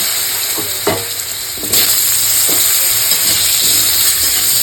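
Raw mango strips frying in a pan with mustard seeds and chillies, a loud, close, continuous sizzle and hiss with a few stirring knocks, growing fuller partway through.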